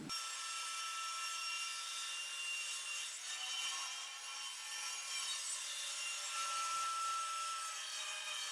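A handsaw cuts through wooden window and door trim in steady back-and-forth strokes, quiet and continuous with no talking.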